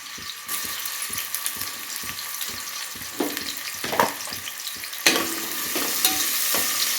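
Sliced onions sauté in hot oil for a kurma, a continuous sizzle punctuated by regular stirring scrapes, swelling louder and brighter partway through as the pan is worked, with no voices.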